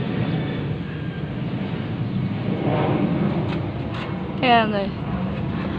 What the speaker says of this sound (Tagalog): Kaya maingay, may aeroplano dumadaan dito. Malapit kasi kami sa airport.